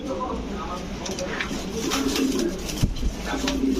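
Bukhara pigeons, including classic almond Bukhara birds, cooing at a pigeon farm, soft low coos repeating in the background while people talk nearby.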